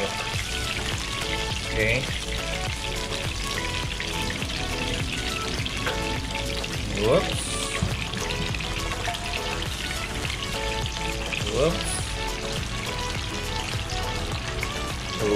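Jumbo hotdogs frying in hot oil in a pan after being boiled in water, a dense, continuous crackling sizzle up close, with a few short spoken words over it.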